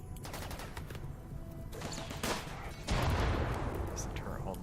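Automated turret gunfire in the colony-building game Rimworld, heard as dense crackling volleys of rapid shots that grow louder and heavier toward the end.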